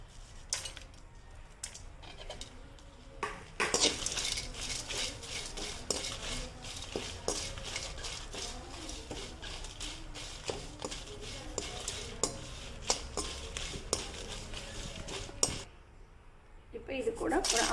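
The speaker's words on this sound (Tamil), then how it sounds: "வரமிளகாயும் போட்டு ஒன்றா போட்டு கொஞ்ச நேரம் இதை வறுத்துக்கலாம்" Dried red chillies and lentils being dry-roasted in a pan for adai dosa batter, with a spoon repeatedly scraping and clinking against the metal, close and steady, while someone talks over it.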